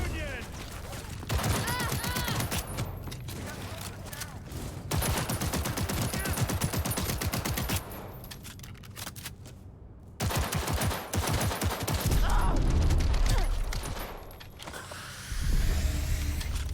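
Dense, sustained gunfire in Cyberpunk 2077, heavy bursts and fusillades with mechanical clatter that run almost continuously, loud and close, dropping out briefly partway through.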